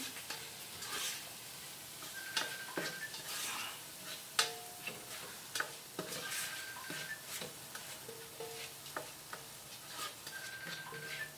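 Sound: sautéing ingredients for Filipino spaghetti sauce

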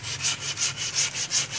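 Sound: sawing tree wood

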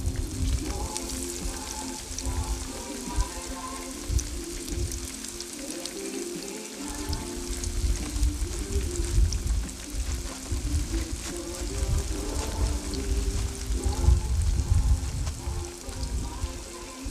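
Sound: zucchini frying in oil

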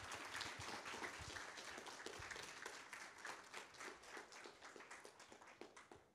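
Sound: audience applause for Doc

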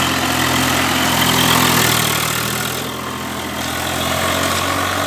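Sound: Swaraj 744 FE tractor engine

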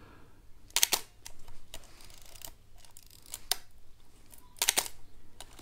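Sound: 35mm SLR film camera shutter firing and film winding

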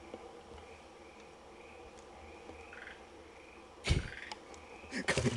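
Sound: frogs croaking at night at a graveyard

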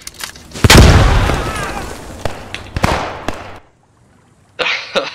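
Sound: grenade explosion in Post Scriptum video game

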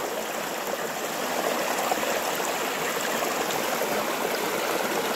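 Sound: mountain stream flowing over rocks

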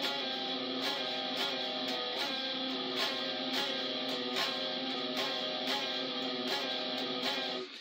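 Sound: distorted electric guitar playing a riff slowly

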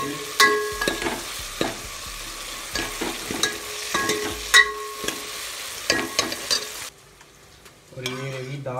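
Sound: tempering (tadka) frying for dal with onion, tomato, chili, garlic

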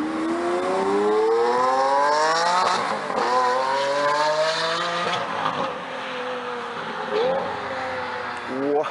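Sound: cars accelerating while chasing a Lamborghini Aventador

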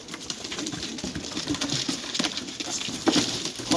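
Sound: Mardin tumbler pigeons

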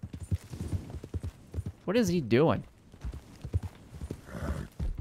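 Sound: horse in the video game Red Dead Redemption 2

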